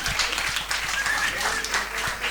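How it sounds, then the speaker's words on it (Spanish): A studio audience applauds a Spanish comedy show, with brief, moderately loud clapping that runs through the short stretch alongside some background voices. "Un aplauso para la zumba del dinero."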